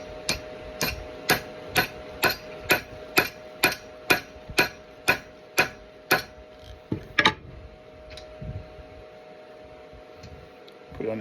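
A wooden dowel wedge is hammered into an axe head in a steady series of about fourteen sharp, evenly spaced taps. After a final double strike, only faint handling noise remains.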